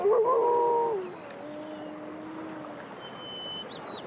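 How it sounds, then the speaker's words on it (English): A single wolf howl, long and wavering, rising then sliding lower before fading, heard alone with faint calls in the background. "It turns and howls."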